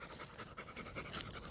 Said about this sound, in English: Jake, your heavy breathing's bloody pretty loud, son, isn't it?